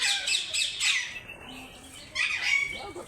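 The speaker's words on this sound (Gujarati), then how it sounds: "આ છે મિત્રો પોપટ" A parrot at Sakkarbaug zoo gives loud, harsh squawks close by in two short bursts separated by a brief pause.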